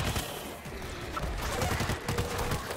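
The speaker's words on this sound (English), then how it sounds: "That's gunfire." Rapid bursts of video game gunfire from World War Z crackle continuously, a dense volley of shots with a booming, chaotic edge throughout.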